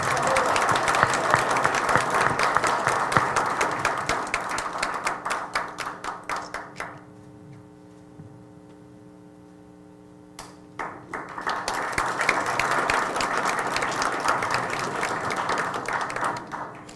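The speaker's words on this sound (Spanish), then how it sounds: "Con un fuerte aplauso, por favor." Audience applause at a conference, a loud sustained crowd clapping that drops away to a quiet gap with faint tones, then swells again into full applause.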